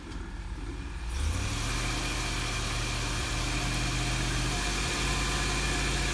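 A pickup truck engine idles steadily while the truck backs beneath a Livin Lite Camplite 8.4S truck camper, a constant low rumble starting after a second of quieter ambience and holding close and even to the end.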